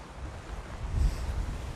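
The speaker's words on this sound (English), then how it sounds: "It is windy and that wind is cold." Cold wind blowing at a lakeside campsite by Sproat Lake, a low rumbling gust buffeting the microphone that swells midway, steady and close with no voices.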